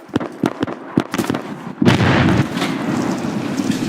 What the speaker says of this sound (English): I'm gonna frag that observation post, guys.